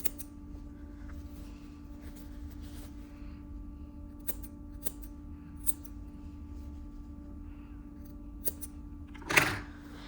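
Scissors make quick close snips through the seam allowance of a sewn vest, several sharp clicks over a steady electrical hum, with a louder rustle of fabric near the end.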